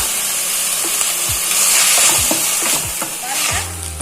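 Onions sautéing with a little salt in a pan while cooking Kerala-style karimeen polichathu, a loud steady sizzle with stirring scrapes and clatter, ending in a brief knock.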